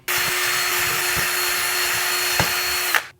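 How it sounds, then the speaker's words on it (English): A power drill bores strain relief and hanging holes in a part for a homemade 10 meter dipole antenna, one steady loud whine with a constant tone running nearly three seconds before cutting off. "Next I'm going to drill out our strain relief holes and a hole so we can use it for hanging."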